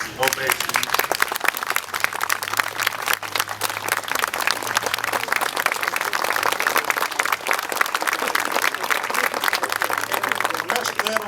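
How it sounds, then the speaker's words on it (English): A town square audience gives sustained, dense applause, a steady roar of many hands clapping with crowd noise and cheering throughout, continuous and fairly loud, with some voices mixed in beneath it. "I think they deserve a standing ovation"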